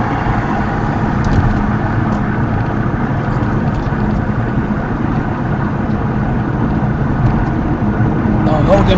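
A car's engine drones steadily from inside the cabin during general road driving as it speeds up to 50, a continuous low hum with road noise and no sharp events.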